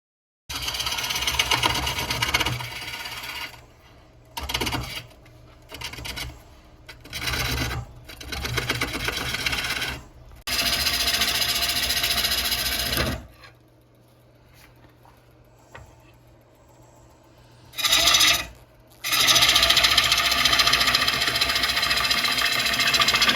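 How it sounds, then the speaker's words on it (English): Wood lathe spinning a box elder bowl blank at about 500 RPM, a steady mechanical hum with rasping, scraping bursts of a tool cutting wood, broken by pauses and sudden louder stretches. "So you turn as fast as you can before the lathe starts shaking, and we're at about 500 RPM."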